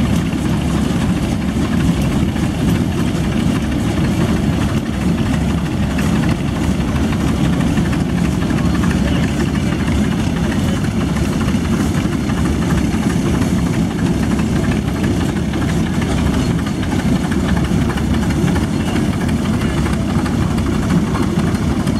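Russell engine, an antique machine at the Rollag show, running steadily with a continuous low, heavy rumble and vibration, loud and close throughout with no pauses.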